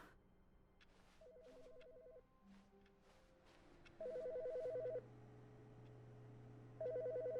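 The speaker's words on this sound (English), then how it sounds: "There's a phone ringing." Telephone ringing inside The Stanley Parable video game, repeated electronic ring bursts at steady intervals over a low background hum, fairly clear and alone without talk.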